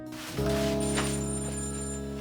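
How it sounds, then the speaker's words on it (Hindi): A telephone rings indoors in a home, a steady electronic ringtone with a sustained harmonic tone starting abruptly and continuing close and loud, with no talking over it. "अब किसका फोन आ गया?"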